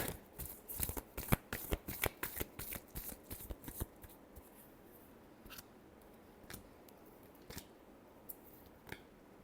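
Tarot cards shuffle in quick riffling bursts, a rapid run of crisp snaps that slows into scattered single flicks, close and fairly quiet, with no talk.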